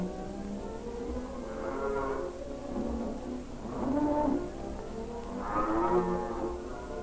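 Cows mooing on a farm: three long, low moos at a moderate distance, spaced a couple of seconds apart over quiet background noise.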